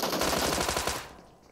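A Tommy gun fires a rapid, loud automatic burst of about a dozen evenly spaced shots in an esports match of a video game, then cuts off and fades to quiet.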